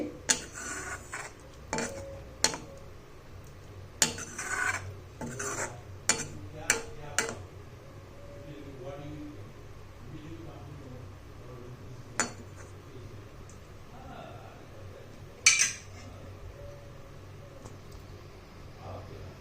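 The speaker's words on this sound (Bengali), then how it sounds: "এবারে এটা ভালো করে মিশিয়ে দিচ্ছি এর সঙ্গে" Spoon clinks and scrapes against a pan as kasuri methi is mixed into butter mushroom, a burst of sharp metallic taps early on, then a few scattered knocks over a quiet kitchen background.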